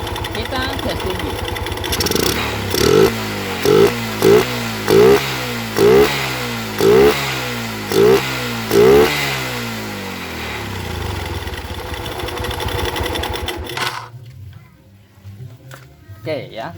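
A Yamaha Jupiter MX motorcycle engine, running without its air filter box, is blipped hard in a rapid series of about eight high revs over a loud running engine, then cuts out abruptly, with a voice talking over it.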